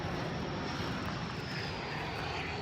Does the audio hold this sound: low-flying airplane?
yes